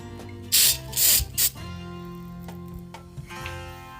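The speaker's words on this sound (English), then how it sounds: "you can spray your spoon with some non-stick spray" Non-stick cooking spray hisses onto a measuring spoon in three short bursts, close and loud, followed by quiet kitchen handling clatter.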